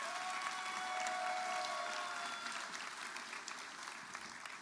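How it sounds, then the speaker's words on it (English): A crowd at a graduation ceremony gives a round of applause, steady clapping heard from a distance that gradually tapers off over a few seconds. "So let's give Erica another big round of applause for putting that together."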